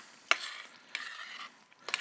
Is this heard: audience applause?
no